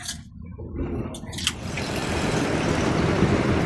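A bus engine rumbles steadily at a station in Laos, swelling from a quieter start into a broad, continuous roar close by, with a brief faint voice near the beginning.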